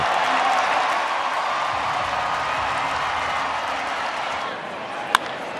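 A stadium crowd roars in sustained cheering after a leaping home run robbery catch at a baseball game, a loud, dense wash of voices holding steady before easing slightly, with one sharp bang near the end.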